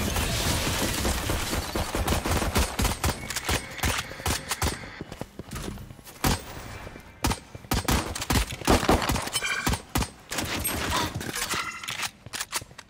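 Rapid bursts of gunfire from the tactical shooter game Valorant, dense overlapping shots and impacts in quick succession, loud and continuous with brief gaps, no talk over them.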